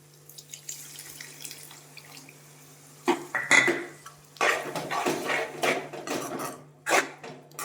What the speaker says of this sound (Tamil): வாங்க புளி தண்ணி ஊற்றிக்கலாம்.